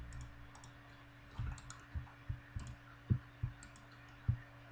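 Sparse, irregular computer key clicks, close and fairly quiet, a few single taps spaced through a low electrical hum, with no speech.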